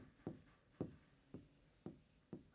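A pen writes on paper, labelling a geometry figure of a semicircle and triangle within a circle. It makes five evenly spaced short scratching strokes, faint and close in a quiet room.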